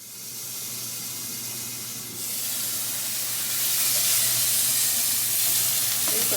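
Food sizzles and fries steadily in a skillet on an induction cooktop, a continuous broadband hiss that swells louder partway through and holds close and even with no talking.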